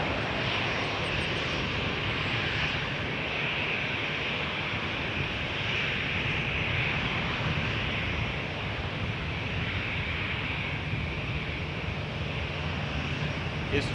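An Airbus A330, Air Transat flight 306 to Venice, taxiing at Toronto Pearson Airport, gives a steady broadband jet-engine roar with a high whine. It holds at an even level throughout, with faint talk underneath.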